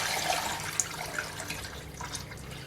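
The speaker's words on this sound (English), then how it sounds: "now I'm pouring off the clear ghee" Clarified ghee being poured off the solids into another pan in a kitchen, a steady liquid trickle with faint splashes and a small clink, no talking.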